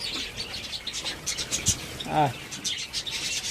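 Java sparrows at their nesting pots give short, sharp chirps scattered across a quiet background, with a few brief bursts of calls and light scratching close by.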